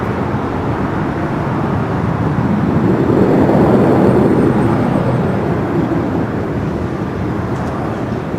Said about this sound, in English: Do have that Dreamliner heading back down